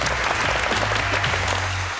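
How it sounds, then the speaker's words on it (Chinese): A studio audience on a Taiwanese TV game show claps loudly and steadily throughout, dense and close, with a low tonal hum underneath. "掌声鼓励"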